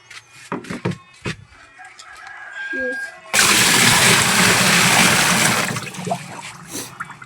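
Water poured into a fixture during a home-service plumbing leak check, a sudden loud continuous gushing splash in the second half, preceded by short bursts of people talking and a distant rooster crowing.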